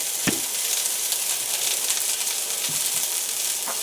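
Honey garlic sausages fry in a pan, a steady, loud, close sizzle that runs unbroken for a few seconds, with a couple of soft knocks near the start.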